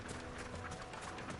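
Horse hooves galloping in Final Fantasy XVI, a quick steady clatter of hoofbeats, faint and brief, with no talk.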